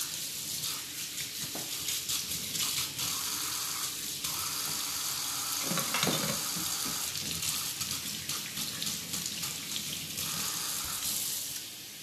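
Hot tap water runs steadily into a kitchen sink, a continuous bright hiss that swells with a few splashing surges midway, alone without talk.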